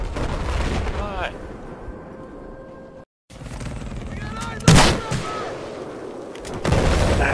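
Enemy machine gun fire in a military shooter video game, heavy and continuous bursts with sharp louder cracks, dense and close against a busy battlefield din.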